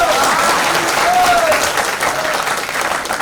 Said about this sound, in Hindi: सुधीर सर के जोरदार तालियां.